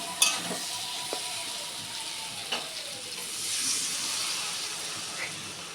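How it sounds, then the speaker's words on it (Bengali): Water poured into a hot frying pan of fried rice and potatoes sets off a steady sizzling hiss, with a few sharp crackles and pops standing out over the continuous frying noise. "গেছে এটা ভাজা এবার জল দিই"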